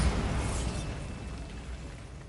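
Bombarda spell blast in Hogwarts Legacy: a loud, broad rumbling burst that starts at full strength and slowly decays over about two seconds, heard alone with no talk.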